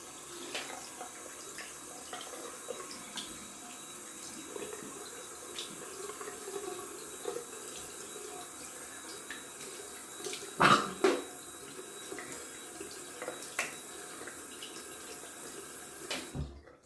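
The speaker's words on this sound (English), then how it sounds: "rinse out my bowl. And then rinse it off." A running tap pours into a sink as a shaving bowl is rinsed, a steady quiet flow with a couple of brief louder knocks and splashes, no talking.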